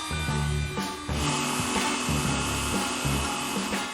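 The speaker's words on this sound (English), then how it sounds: "So what I need to do is cut these out with a jigsaw." A jigsaw cuts through wood in a workshop, its loud buzzing motor rising and dropping in short bursts as the blade bites and eases off, close up with no talk.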